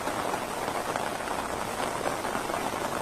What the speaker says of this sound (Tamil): மழை பெஞ்சுக்கிட்டு இருக்கீங்க.